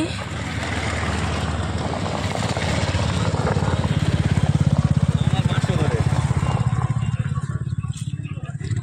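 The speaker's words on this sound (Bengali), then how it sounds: "ও এত বাইক যাচ্ছে" Motorcycles pass along a road, a steady engine drone that swells toward the middle and then eases off, with a voice faintly underneath.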